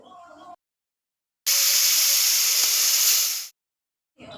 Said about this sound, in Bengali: এবার আমি মাছগুলো তেলের মধ্যে দিয়ে দিলাম।